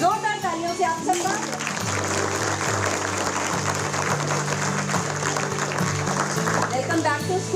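Teachers and students at a reopened Delhi school break into loud, sustained applause to welcome students back, steady clapping filling the room for several seconds with crowd noise mixed in.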